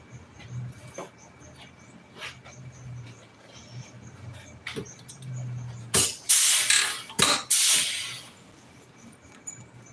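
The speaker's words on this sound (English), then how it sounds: "Rivet this piece down." Rivets are set to fasten a piece during a seat spring repair, heard as several loud, sharp bursts in close succession near the end after quieter clicks and handling sounds.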